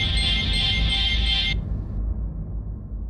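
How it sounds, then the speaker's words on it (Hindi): A phone rings in a home setting, a steady electronic ringtone that plays loudly for about a second and a half and then cuts off, leaving low room hum. "भाभी की दादी का फोन।"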